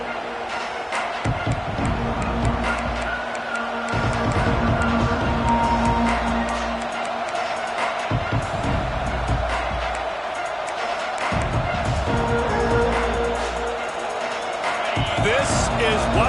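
College football stadium crowd roaring steadily as the Thundering Herd offense takes the field, loud and continuous, with a commentator talking over the noise throughout.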